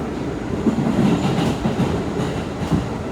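An R211A subway car on the D train in New York runs along the N line toward Manhattan, its steady low rumble and rhythmic wheel clatter heard from inside the car, loud and continuous with no talk.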